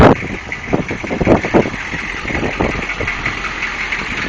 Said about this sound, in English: Not much to hear right there, but it's a pretty quiet exhaust system.